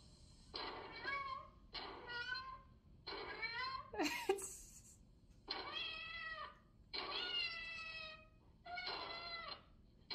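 A cat in the 1949 Three Stooges film Malice in the Palace gives about seven drawn-out, wailing meows in an uneven series, each separated by short pauses, fairly faint.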